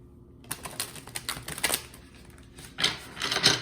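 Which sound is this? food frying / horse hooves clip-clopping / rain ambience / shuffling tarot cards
shuffling tarot cards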